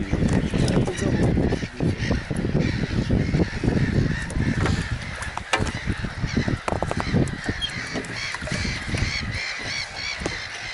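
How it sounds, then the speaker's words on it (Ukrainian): Gulls and other waterbirds call loudly and continuously over a marshy floodplain during a spring fish spawn, forming a dense, clamorous chorus of overlapping cries and honks. "чайки"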